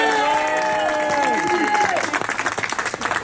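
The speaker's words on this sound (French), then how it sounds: "vous pouvez applaudir Aurélie" Applause from an audience at a gathering of cultural workers in Givors, rising as a held musical tone fades and continuing as dense clapping with some crowd noise.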